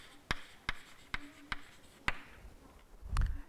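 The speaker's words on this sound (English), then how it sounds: "Let me write it." An equation being written out by hand during a lecture on analytic functions, with five sharp, evenly spaced taps of a pen or chalk on the surface, followed by a soft low thump.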